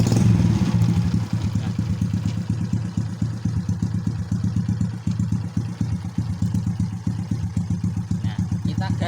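A Honda Absolut Revo motorcycle engine starts and settles into a steady, rapid idle, its close, even thudding pulses running throughout.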